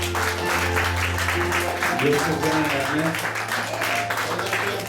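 Moderate clapping from a congregation during a Wednesday church Bible study, heard under sustained music tones and a spoken voice.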